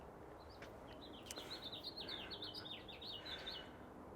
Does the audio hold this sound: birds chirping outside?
yes